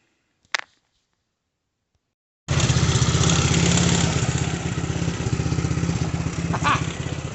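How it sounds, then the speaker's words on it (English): A single sharp click, a pause of silence, then a Tao Tao ATV engine with a no-start and stalling problem starts up and idles steadily with a loud, even putter close by. "Idling on its own."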